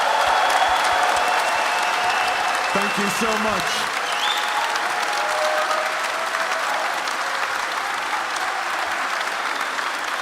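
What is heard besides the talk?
audience applause in a concert hall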